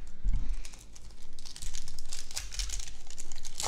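A wax pack of trading cards is torn open, the wrapper crinkling and ripping in a steady run of close, crisp bursts with brief pauses.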